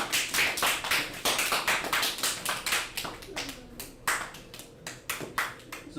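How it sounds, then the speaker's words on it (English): Group clapping for a class at a religious gathering, a run of sharp, fairly even hand claps that thin out and turn sparser toward the end, moderately close, with faint murmuring underneath. "clap it up for class"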